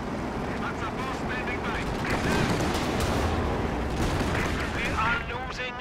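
Dense, continuous battlefield gunfire from Company of Heroes 2, with rapid machine-gun bursts and heavier blasts layered into a loud, unbroken roar, while game voices call out over it.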